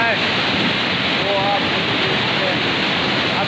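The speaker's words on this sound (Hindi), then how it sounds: "ज़्यादा मतलब फोर्स से पानी यहाँ से नीचे आता है" A waterfall sends water rushing down with force, a loud, continuous dense hiss and roar close by that stays steady throughout, with a few faint whistling tones over it.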